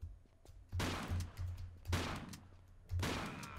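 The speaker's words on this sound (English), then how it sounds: "And I shoot you." Three loud gunshots from a player's weapon in Tomb Raider: The Last Revelation crack out roughly a second apart, each with a short ringing decay over a low, steady ambient hum.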